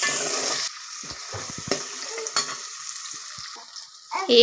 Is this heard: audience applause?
no